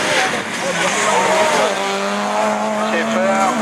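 Division 4 rallycross cars launch off the line at a Lessay race, engines revving hard with rising pitch and tyres squealing, loud and close, while a French commentator talks over the noise.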